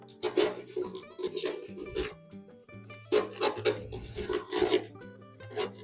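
A screwdriver scrapes and rasps against the rotted chassis and outrigger metal of a 1970 Land Rover Series 2, in two rough bursts of close, fairly quiet scratching separated by a short pause.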